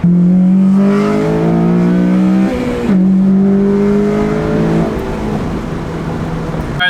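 Honda Civic with a VTEC solenoid fault revving hard under acceleration, loud and close, engine pitch climbing steadily, a brief drop at a gear change, then rising again before easing off.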